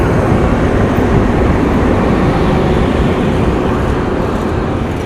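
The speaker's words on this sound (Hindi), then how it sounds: "सामने से ट्रेन आ रही है। ये आ गई जी ट्रेन।" An old passenger train arrives at Bukhara railway station, a loud continuous rumbling roar of wheels and carriages rolling close by without pause.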